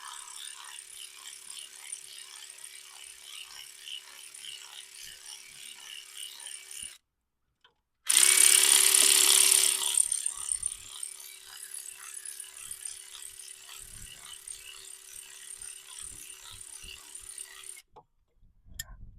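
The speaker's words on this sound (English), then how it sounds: "I'm going to take these two bolts out that hold this bracket on." Ratchet wrench removing two bracket bolts on a Subaru Impreza EJ22 engine: steady quick clicking runs throughout, broken by a short gap and a loud burst of bright hissing noise in the middle, then clicking resumes until a brief pause near the end.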